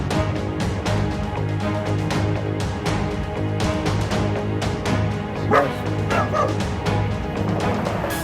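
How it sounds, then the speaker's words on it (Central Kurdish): Several stray dogs bark repeatedly in a busy city-centre street in Erbil, with overlapping yips and whimpers against steady traffic and crowd noise; a faint voice is heard briefly. "وەک دەیبینن لە نێو سنتەری شاری هەولێر ژمارەیەکی بەرچاو لە سەگ هەیە"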